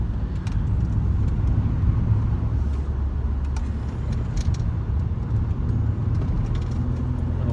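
A 2011 Mercedes E350 Cabriolet taking a series of corners, heard from inside as a steady low engine and road rumble with light rattles and tyre noise, constant throughout with no talking.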